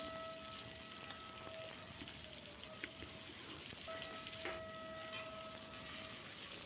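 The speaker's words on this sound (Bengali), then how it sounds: "আলুগুলো প্রথমে তেলে দিয়ে দিলাম" Steady, quiet sizzle and crackle of potatoes frying in mustard oil in a wok, continuous throughout with a faint tonal hum in the background.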